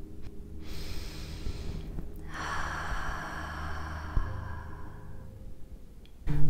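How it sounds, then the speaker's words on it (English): A slow, deep inhale followed by a long, drawn-out exhale, close and soft, with a gentle airy rush and no talking. "breathe lots of love in and an even longer exhale"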